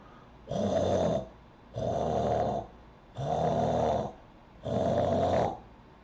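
A voice imitates the snoring, labored breathing of an unconscious person: four slow, even rasping cycles, each about a second long, separated by short pauses, close and clear.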